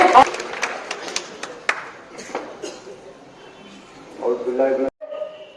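A burst of audience clapping welcomes a speaker at a political gathering, with sharp claps early that thin out into scattered taps amid a voice and crowd murmur.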